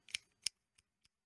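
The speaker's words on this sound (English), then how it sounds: "Those were scissors." Scissors snip several times nearby, two sharp clear cuts followed by two fainter clicks, quiet between each.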